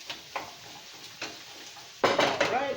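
White onions tipped into a pan and stirred, with a few light scrapes and clinks of a utensil on cookware, then a louder burst of clattering and sizzling toward the end. Vegetarian buffalo cauliflower cooking.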